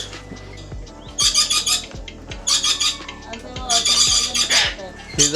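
Lorikeets screech in repeated harsh, piercing bursts, three dense squawking clusters close by and loud, with little else around them.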